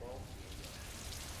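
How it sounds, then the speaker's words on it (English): Rain falls steadily on a street in Tainan, Taiwan, a dense hiss of drops on the pavement that stays even and continuous, faint in level, with no distinct foreground sounds. "the rain started hammering down on the most famous street"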